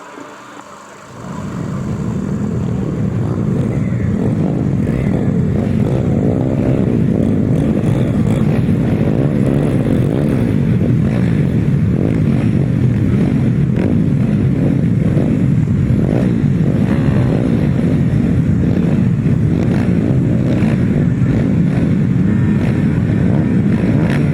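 GT140 grasstrack motorcycles roaring off at the start of a race heat, the engines swelling from quiet into a loud, sustained blare of many bikes revving together, continuing steadily with wind buffeting.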